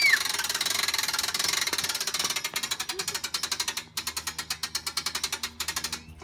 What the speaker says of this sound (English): you want to finish cranking it the rest of the way